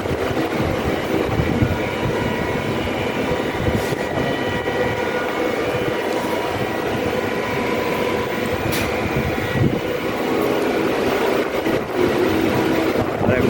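New Indian Eastern Railway coaches rumble continuously, a steady low roar of rolling wheels with occasional clanks and rattles, sustained and fairly loud throughout.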